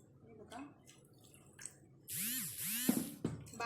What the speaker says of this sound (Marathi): याच्यात फक्त पाणी ॲड करायचं, तुम्हाला जितकं पाहिजे तितकं अंदाजाप्रमाणे.